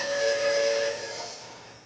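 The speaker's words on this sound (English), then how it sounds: "we're going to play the plate with the violin bow" Violin bow drawn across the edge of a metal Chladni plate scattered with sand, giving a sustained, piercing ringing tone with a hissy edge that holds briefly and then fades away.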